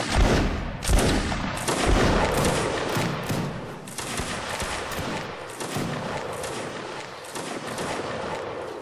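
A ripple-fire volley of muskets from a Napoleonic Wars line battle rolls along the ranks as a rapid string of overlapping cracks and thuds. It stays loud and dense throughout, like a crackling barrage spread across the line.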